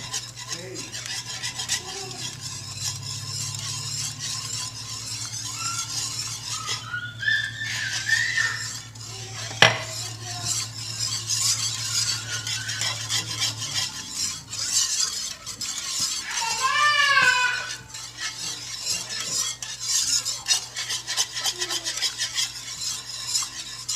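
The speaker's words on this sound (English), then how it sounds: "I'm going to whisk it until it's smooth, just adding it slowly." A whisk rasps and scrapes steadily against a pan as chicken broth is whisked in slowly until smooth, a continuous close stirring sound with a low hum underneath.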